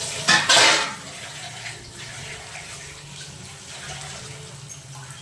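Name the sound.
putting a lid on a cooking pot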